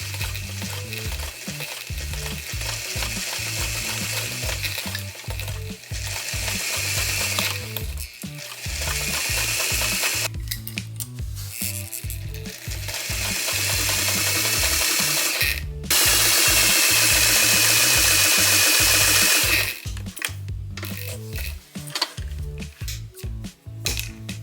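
A sewing machine stitching darts and joining yoke fabric pieces, running in long continuous bursts of rapid mechanical needle clatter with short stops, loud and close throughout.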